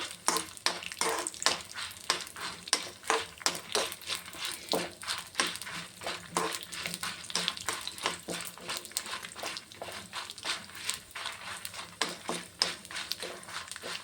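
Red chillies are stirred and warmed in a pan for red chutney, with steady rhythmic scraping strokes of the spoon over a soft, dry sizzle, close and moderately loud.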